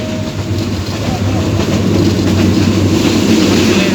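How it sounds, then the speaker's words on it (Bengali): A train from Sreemangal to Dhaka Airport in Bangladesh rumbles steadily along the rails, heard from inside, with a loud continuous low drone and faint rhythmic clatter of the wheels. "যাত্রা করে ট্রেনে চলছি"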